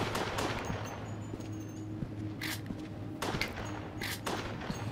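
Gunfire in the Resident Evil Darkside Chronicles video game, several quick sharp shots cracking over a steady background rumble, fairly close, with a few separated bursts across the span.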